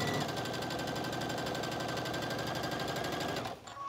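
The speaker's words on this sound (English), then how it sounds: "And I'm just stitching, I'm lining up my fabric right on this edge of the presser foot." A sewing machine stitches fabric along the edge of the presser foot, giving a fast, even, close mechanical whir that runs steadily for several seconds and then stops abruptly.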